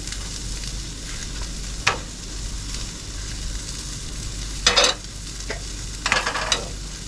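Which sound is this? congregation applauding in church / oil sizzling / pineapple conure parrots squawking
oil sizzling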